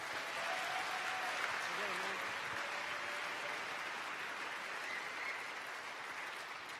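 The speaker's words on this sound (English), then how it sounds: "Give him a round of applause" Steady applause from an audience at a short talk event, a moderate even rattle of many hands clapping in a large room, continuing for several seconds with faint murmurs underneath.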